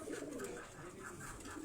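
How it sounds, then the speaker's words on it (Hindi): Teddy Kasuri pigeons coo softly and continuously in a short, fairly quiet stretch, with low murmuring calls and no voices. "ये जो कबूतर आप देख रहे हैं ये टेडी कसूरी कबूतर हैं"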